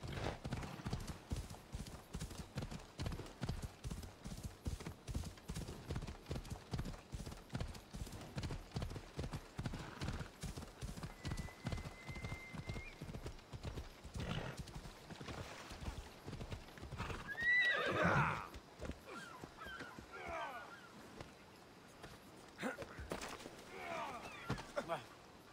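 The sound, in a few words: horse galloping and neighing in video game Assassin's Creed Odyssey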